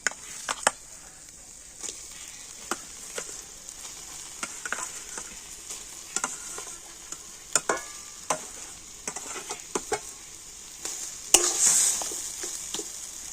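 Grated potato with spices frying in oil in a pan, stirred with repeated scraping clicks and taps over a steady sizzle, close and fairly quiet.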